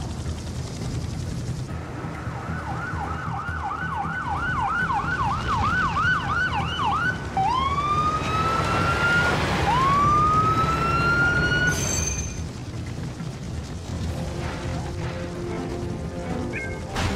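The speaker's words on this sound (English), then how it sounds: "I called for another ambulance to meet us when this mess was over." Ambulance siren in the Urban Chaos: Riot Response video game, wailing continuously and growing louder as it approaches, switching between a fast warble and long rising sweeps, with a brief crash near the end.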